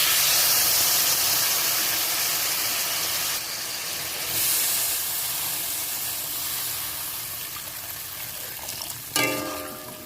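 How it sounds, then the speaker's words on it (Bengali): Water poured into a pan of hot fried spices for a fish curry brings a loud steady hiss and sizzle that slowly fades, with a brief clatter near the end. "এবার আমি জল অ্যাড করে দেব পরিমাণ মতো।"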